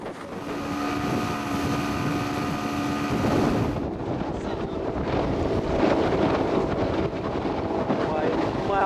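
Motorized boat pushing through big waves at sea, a steady engine and hull rumble under strong wind buffeting the microphone, with water noise surging in the second half.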